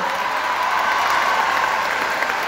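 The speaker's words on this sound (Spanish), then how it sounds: "Vamos a darle un fuerte aplauso a Carlos Rivera" Audience at the Huamantla 2022 fair inauguration gives Carlos Rivera a strong round of applause, a continuous dense roar of clapping from a large crowd, steady and fairly distant.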